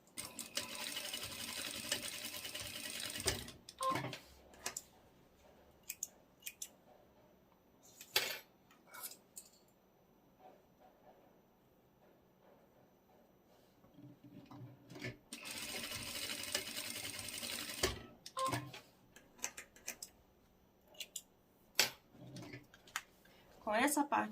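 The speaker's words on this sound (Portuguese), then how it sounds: "eu vou passar uma costura com retrocesso" A sewing machine runs backstitch seams on a reversible fabric tote bag. Two long bursts of whirring stitching, separated by quieter handling clatter and brief speech.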